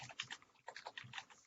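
Rapid, close keystrokes on a computer keyboard during a Windows Server 2019 setup, a quick irregular run of clicks at low volume with no voices.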